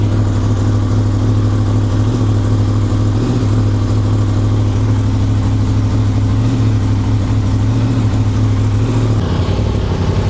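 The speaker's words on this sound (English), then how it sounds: "So the engine has run for a while, so it's got a little bit of heat inside the engine." Close, loud and steady idle of a Yamaha R1 sport motorcycle, rebuilt after a crash and warmed from a recent run, holding an even low rumble for about ten seconds with a slight change near the end.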